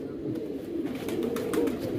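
Pigeons in a loft coo steadily while wings flutter in short bursts as birds fly up and settle, close by with a soft background hum.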